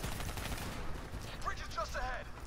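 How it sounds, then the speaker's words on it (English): Gunfire in the Call of Duty: Black Ops 3 campaign rattles in rapid, sustained bursts under a dense battle din, fairly faint and continuous throughout. "That's a lot of shooting."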